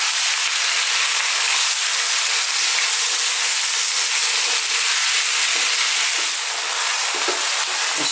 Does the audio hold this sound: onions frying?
yes